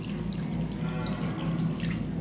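Water poured into chicken gravy simmering in a pot, for serving with idli, makes a steady, close running and splashing sound with no break and no talking.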